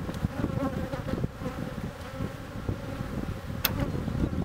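A dense, steady buzz of many honeybees swarming around hives in an apiary, heard close and continuous with no talking.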